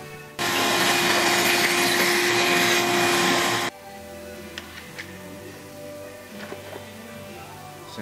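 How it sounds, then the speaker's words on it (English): A shop vac sucks debris out of the fuel injector holes of a 2007 BMW 328Xi. It roars loud and steady for about three seconds, then cuts off, leaving quiet workshop ambience with light clicks and taps. "I'm just going to vacuum that out with a shop vac"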